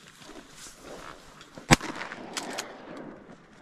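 A single sharp gunshot cracks out while duck hunting in the Idaho mountains, loud and close, standing out against a quiet outdoor background with faint rustle before and after.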